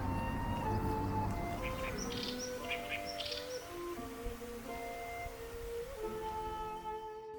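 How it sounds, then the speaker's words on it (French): Birds call and chirp around a lake in Japan, several thin tweets and whistles rising over a steady hum of background noise, moderately distant. "nos quelques balades autour du lac nous auront permis d'observer quelques espèces d'oiseaux"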